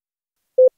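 Slow Morse code tones forming a letter: one clear, sustained mid-pitched beep followed by the onset of another, alone against silence.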